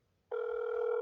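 A phone ringback tone sounds on an unanswered call to an emergency crisis hotline: after a brief quiet moment, a steady electronic tone starts abruptly and holds, clear and alone.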